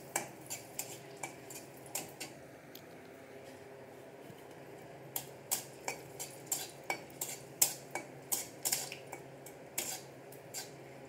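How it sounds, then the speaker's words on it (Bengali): Dried red chillies in hot oil under a low sizzle, with a run of sharp, regular metallic taps and scrapes of a spoon against the pan, close by and continuing through most of the stretch. "লঙ্কা কটা ভেজে নেব।"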